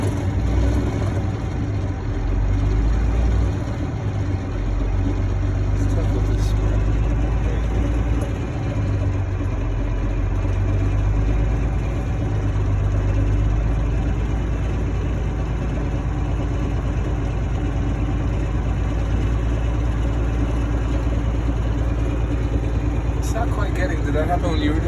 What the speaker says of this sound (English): I'm going to give the engine a little bit of gas in order to build the pressure up faster.